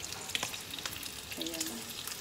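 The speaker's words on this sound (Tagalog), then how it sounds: "ngayon ay nagluluto ako ng bacon" Bacon sizzles and crackles in a frying pan, a steady close hiss with scattered sharp pops, a faint voice briefly in the background.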